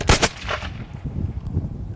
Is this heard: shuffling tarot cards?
no